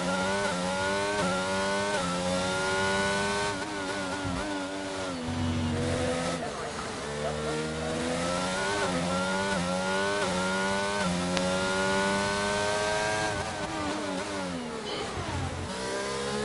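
Race car engines in a racing video game at Baku on a hot lap, a loud continuous high-pitched whine rising and falling through gear changes, with a commentator talking over it.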